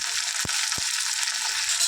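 Curry leaves dropped into hot oil for a tempering, a bright continuous crackling sizzle with two sharp pops near the start, close and fairly loud with no talk.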